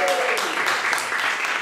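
A comedy club audience claps in a short, dense burst of applause lasting under two seconds.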